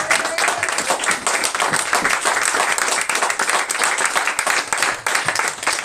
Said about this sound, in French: On se lève et on acclame le Seigneur,